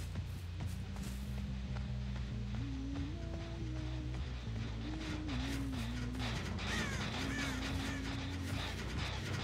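Crows caw in Dead by Daylight while the game's steady rumbling ambience and droning tones play underneath, with repeated bird calls scattered through the scene.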